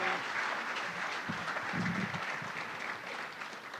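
Steady applause from a ceremony audience for agricultural economics graduates, a continuous wash of clapping that holds fairly even for the whole stretch, heard from within the hall.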